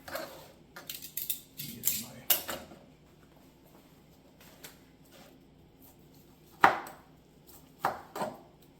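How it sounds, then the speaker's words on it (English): A knife chops through tender smoked rib tips on a board in a few quick clustered strikes, then sparse single chops after a pause, close and crisp. "So we're going to go ahead and cut those up and commence to chopping them up."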